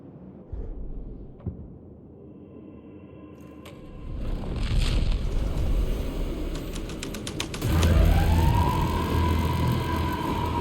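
A police car siren rises and wails in Alan Wake 2, building from a quiet night scene with scattered knocks into a loud, steady siren tone over a low engine rumble.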